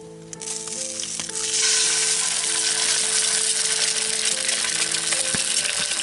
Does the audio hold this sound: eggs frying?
yes